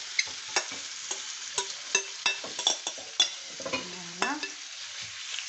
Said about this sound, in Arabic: لكم انا الكبده دائما نحب نجوزها في الزيت